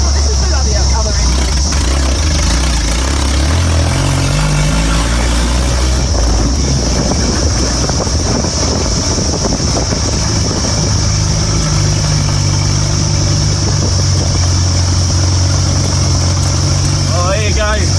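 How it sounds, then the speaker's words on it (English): A 1958 Land Rover engine running on a ride, a loud, close, continuous drone that rises and falls with gear and speed, with people talking over it throughout. "I hope you enjoyed that ride in the 1958 Land Rover"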